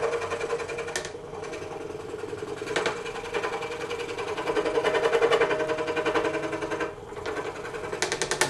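A scroll saw cutting a wooden table piece, its blade buzzing in a fast, steady mechanical chatter that runs throughout, close and fairly loud, with slight changes in load as the cut moves along.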